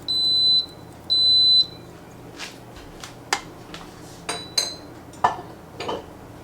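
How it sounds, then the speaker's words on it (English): An Instant Pot gives two steady electronic beeps as its saute button is pressed, followed by scattered clicks and clatter of kitchen utensils nearby. "I'm going to hit my saute button on my Instant Pot and I'm going to let this come up to heat"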